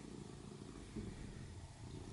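A large domestic cat purrs indoors, a low, steady rumbling drone that stays even and soft throughout, heard close with no other sounds.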